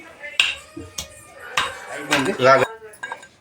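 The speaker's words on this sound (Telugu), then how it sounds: "మాకు మిక్స్ లేదు ఇదితోని దంచుతాము" Ingredients pounded by hand with a utensil in a metal kitchen vessel, a few sharp irregular clanking knocks, close and fairly loud, with no talking.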